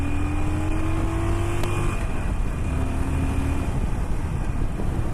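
A 2018 Harley-Davidson Sportster Iron 1200 motorcycle accelerates while overtaking a truck on the road, its engine note rising in pitch over loud, steady wind roar from the moving bike.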